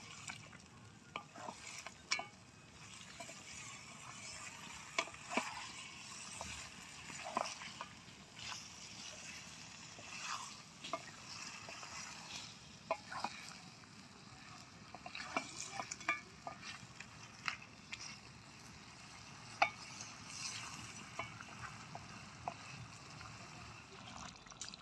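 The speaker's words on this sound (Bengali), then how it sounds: "এবার একটু জল দিয়ে দেবো। ভালো করে মিশিয়ে নেব এখন।" Fish head curry with added water is stirred in a cooking pan, giving soft scraping and gentle sizzling with intermittent clicks of the spoon against the pan, steady and close, with no speech.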